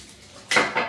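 Lidded containers of thick glass clink and knock together in a short, close, bright burst of two quick contacts after a quiet moment.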